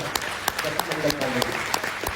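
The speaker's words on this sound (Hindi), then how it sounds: "एक बार जोरदार तालियां" Loud audience applause at a Bihar health minister's address on homeopathy, dense clapping with sharp individual claps standing out over a steady crowd wash.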